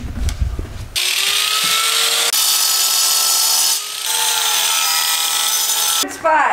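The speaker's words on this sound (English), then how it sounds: "He's gonna take the angle grinder and grind out that pain in the ass rivet in the corner." An angle grinder grinds out a rivet in the corner of an old school bus during demolition. A loud, harsh, high whine runs near-continuously for several seconds, with a short dip partway through and clatter at the start and end.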